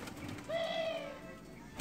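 Collared doves in a home aviary give a single soft, hollow coo, close and fairly quiet over faint room noise, with no talking.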